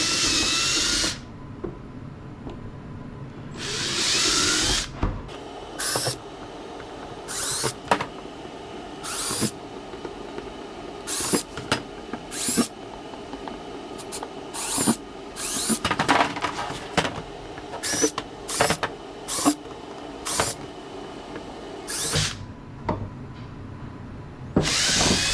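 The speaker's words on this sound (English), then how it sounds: "and drill those out." Power drill boring holes at center punch marks while installing a flasher storage insert kit, several short close whining bursts of the motor separated by pauses, each start and stop sharp and distinct.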